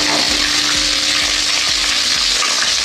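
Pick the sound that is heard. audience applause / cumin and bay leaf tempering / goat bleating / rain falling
cumin and bay leaf tempering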